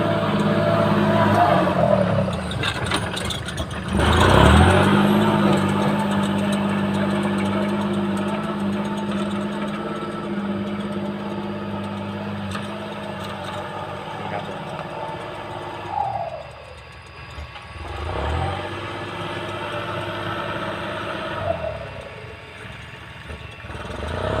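A tractor runs in a rice field doing rotary tilling to bury rice seed, its loud, close engine droning steadily and rising and dipping in pitch as it turns.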